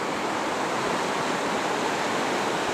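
The River Tees near Caldon Snout below Falcon Clints, a steady, full rush of flowing water that holds without pause, close and loud with no voices.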